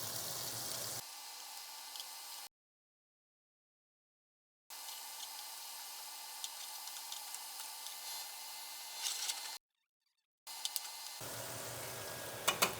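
Blackened redfish sizzles in a hot pan after being flipped, a steady faint hiss and crackle with occasional small pops, broken by stretches of silence.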